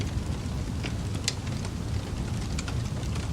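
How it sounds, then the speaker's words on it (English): A fireplace ambience playing in a sleep and relaxation app: steady, dense crackling hiss with a low rumbling bed and occasional brighter pops, continuous and even in loudness, with no voices. "For example, I say fireplace."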